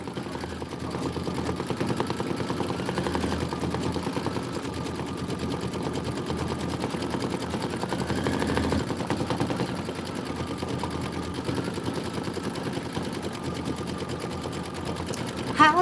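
A sewing machine runs steadily, stitching a quilting design with aquamarine thread for an Enchanted Winter pattern section with a tundra rose and pine trees, a continuous mechanical hum lasting throughout.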